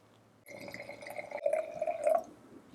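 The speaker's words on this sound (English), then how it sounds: "let's pour ourselves a glass and just take a closer look at this delicious wine" A 2022 Signature Series Albariño white wine is poured into a glass, a close, steady liquid pour lasting about two seconds whose pitch rises as the glass fills. No one speaks.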